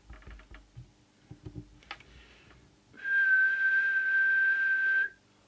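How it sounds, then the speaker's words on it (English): A steady whistled tone held for about two seconds into a UK 27/81 CB mobile radio for transmit alignment, rising loud and alone after some soft tapping and clicks. "Just do the whistle test to see whether it's right."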